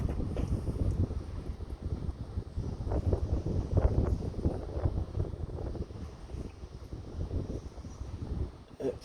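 Gusty wind buffets the microphone outdoors beside a parked Ford Granada 2.8 V6 during an oil change, a continuous low rumble swelling and easing throughout with no talk.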